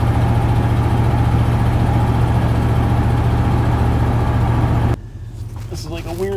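A van engine, just brought out of storage, idles with a steady low rumble close to the microphone, then drops back to a quieter hum as a voice starts talking.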